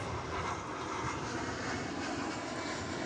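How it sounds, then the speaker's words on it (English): Frontier Airlines Airbus A320 landing at DFW airport, arriving from Las Vegas, heard as a steady distant engine rumble and whoosh that stays even throughout, with no talking. "we're about to be favored with the arrival of Frontier Flight 2134 from Las Vegas, an Airbus A320"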